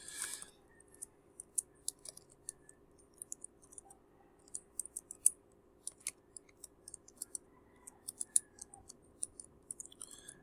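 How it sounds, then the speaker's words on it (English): Quiet, irregular keyboard clicks from someone typing live on a computer while building an HTML page, sparse taps scattered through the clip with a faint steady hum underneath and no voices. "And I'm typing this live without much rehearsal"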